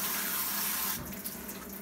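Tap water runs steadily into a sink while beans for Boston baked beans are rinsed, a broad close hiss that shifts and breaks up as the beans are moved under the stream partway through.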